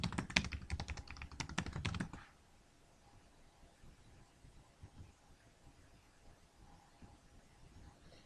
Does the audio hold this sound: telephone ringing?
no